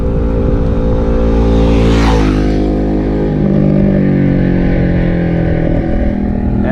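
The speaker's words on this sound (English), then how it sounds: "hold on, there's a motorcycle." A motorcycle roars past close by, its engine note rising and falling as it sweeps through, loud over a constant rumble of road noise.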